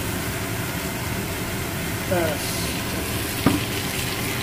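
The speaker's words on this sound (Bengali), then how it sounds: "এবার আবার নাড়ানাড়ির কাজ।" Mutton curry frying in oil in a pan as it is stirred, a steady broadband sizzle throughout with a brief scrape or clatter near the end.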